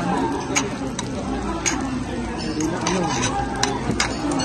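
Eggs being stirred in a pan in a home kitchen, with light scraping and clinking of a utensil against cookware recurring every second or so under steady background noise and a faint sizzle.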